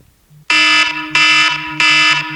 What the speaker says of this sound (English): This is my alarm that I wake up to every morning.